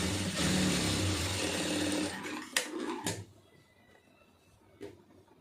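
A sewing machine stitches fabric with a dense, steady whir for about two seconds, then stops, followed by a few sharp clicks and knocks in a quiet room.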